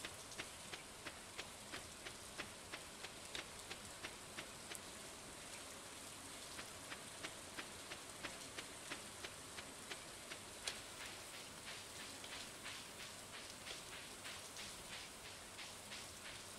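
Steady rain in the farming video game Stardew Valley, a soft even hiss of falling drops with faint regular ticks running through, continuous and alone at low volume.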